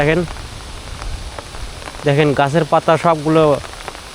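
The first rain after winter's end falls with strong wind, a steady patter and hiss running in the background while someone talks over it.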